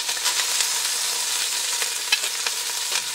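Food browning in a hot frying pan, an even, close, steady sizzle with faint occasional crackles and no talking.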